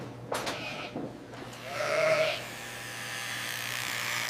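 Inside a sheep shearing shed, a single sheep gives a short, faint bleat amid low shed noise and the hum of machinery.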